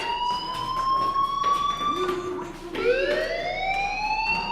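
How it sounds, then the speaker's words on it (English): A fire alarm wails in the video game Life is Strange, with rising and falling electronic siren tones that sweep and overlap steadily over a low background hum, and no voices over it. "do you hear that fire alarm? That means you should be outside."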